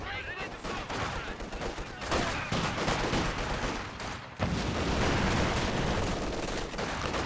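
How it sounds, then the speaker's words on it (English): Dense, continuous machine gun fire from DP light machine guns in a video game battle, rapid overlapping bursts loud throughout, with a heavier wave of shooting in the second half and a commentator talking over it. "Guards with their DP light machine guns much better at this range"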